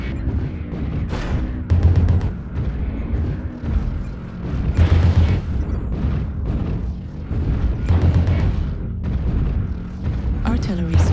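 Artillery strike explosions in a mech combat video game, with heavy, loud booms and deep rumbling blasts arriving in repeated waves, overlapped by synthetic announcer voice calls and dense battle noise.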